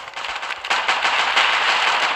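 Rapid, continuous gunfire from a video game in which Nazis are shot, a loud automatic burst that grows denser after a brief lull and keeps rattling steadily to the end.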